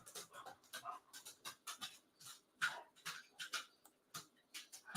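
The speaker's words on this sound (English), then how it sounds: "There's a little dog here." Quick, rhythmic panting from a small dog, close and fairly quiet, with short breathy bursts repeating steadily and no talk over it.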